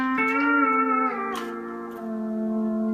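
A sustained, sliding steel-guitar-like phrase with bending notes and rich harmonics, played solo at steady moderate volume, with a brief pick accent midway.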